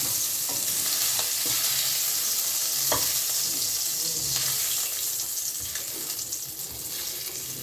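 Shrimp frying in a kadai, loud continuous hissing sizzle of hot oil with a few sharp pops and utensil taps, close and steady, no talking.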